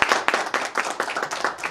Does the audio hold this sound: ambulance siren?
no